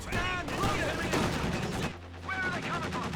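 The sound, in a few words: M15 halftrack machine gun fire, Company of Heroes 2 video game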